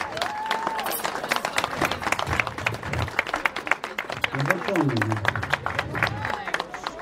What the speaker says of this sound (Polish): Wielkie brawa i oklaski dla pana Sławka!